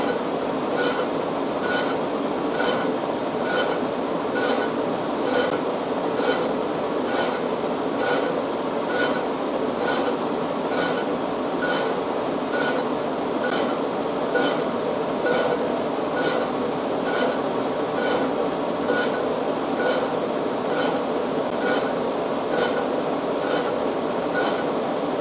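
A 20-inch Axelson lathe runs steadily while cutting chips, giving a continuous dense mechanical roar with a regular rhythmic clicking pulse throughout, loud and close with no talk.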